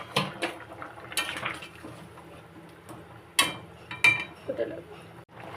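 Fish go into a pan of taro curry cooking in oil: utensil clanks and scrapes against the pan with soft sizzling between, and a few sharp metallic knocks stand out close up.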